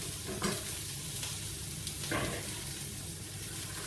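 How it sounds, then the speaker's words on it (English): Sausages sizzle in a pan for a casserole while they are stirred, with a steady frying hiss under occasional scraping stir strokes, close and moderately quiet. "Keep stirring the sausages."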